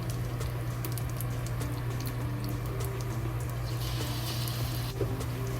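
Spring rolls deep-frying in hot oil, a dense steady sizzle and bubbling crackle that runs continuously at close range with a low background hum.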